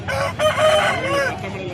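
A rooster at the Melapalayam chicken market in Tirunelveli gives one loud, close crow, with market voices in the background.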